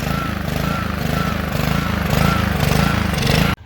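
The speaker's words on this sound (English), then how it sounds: "I'm going to let it run for a little bit and it should smooth the idle out." A small engine idles after repair, a loud, close, steady chugging putter with regular pulses that runs for several seconds before cutting off abruptly.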